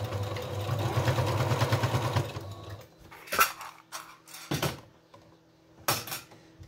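A domestic sewing machine stitches a fabric face mask along a pattern outline, giving a steady close whirring run for about three seconds before stopping, then a few sharp handling clunks and clicks follow in near silence.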